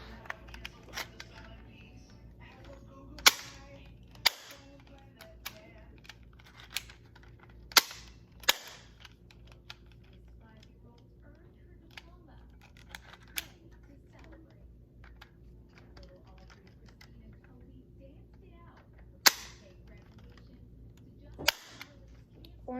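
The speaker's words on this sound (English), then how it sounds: "If y'all don't know how to shoot a pistol, this piece, you just, here, come on, pull down" Airsoft pistol firing scattered single shots, sharp snappy cracks spaced irregularly over a quiet background, with people talking at times between shots.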